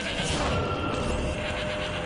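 In the video game Shadows of the Damned, a goat bleats amid a dense, constant wash of game noise and music that runs without a break behind it.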